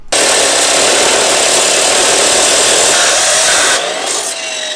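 Cutting through a curved pipe for a 1JZ engine swap, a loud, steady high-pitched grinding screech for nearly four seconds before it eases and tails off.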